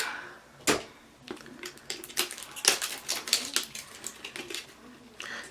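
Plastic wrapping is cut and pulled off a Just for Me texturizer kit box close up, making a series of sharp crinkles, snaps and clicks in irregular bursts.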